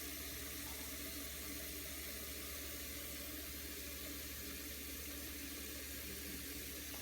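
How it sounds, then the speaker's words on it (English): Water runs steadily into a bowl to make a rinse bath for hand-washed yarn, a continuous even splashing rush lasting the whole stretch with no talk. "Rinse out my bowl and then put some rinse water."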